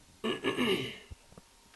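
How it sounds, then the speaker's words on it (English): A single rough, gravelly throat-clearing rumble lasting about half a second, followed by faint clicks and quiet. "Excuse me for me, not to clear my throat."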